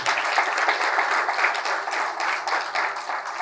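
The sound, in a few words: congregation applause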